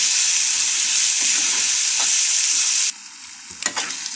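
Masala paste for potato kurma frying on a low flame, a loud, steady close hiss that drops off abruptly near the end, leaving a few light clinks.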